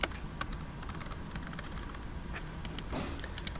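Steady typing on a computer keyboard, a quick run of light, close key clicks with no voice.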